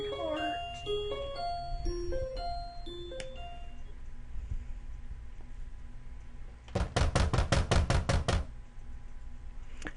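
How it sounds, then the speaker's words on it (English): Loud banging on a door from the visual novel game Katawa Shoujo, heard as a rapid burst of about eight heavy knocks near the end, after a stretch of plinking piano-like game music. "an unbelievably loud banging jolts me awake. It's coming from outside my door."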